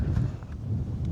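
Steady outdoor wind rumbles low against the microphone in a continuous, moderately loud rush with small gusty swells.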